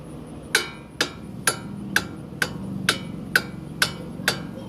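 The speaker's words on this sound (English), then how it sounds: "I have a brass hammer, so I'm going to use it." A brass hammer strikes a steel strut on a 2021 Toyota Sienna, nine sharp ringing metallic blows at a steady rhythm of about one every half second, close and loud.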